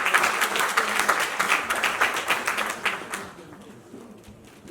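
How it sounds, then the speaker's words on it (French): Applause at a surprise birthday celebration for a mother and grandmother, a crowd clapping fairly close for about three seconds before fading into quieter room noise with faint voices. "On applaudit pour elle s'il vous plaît."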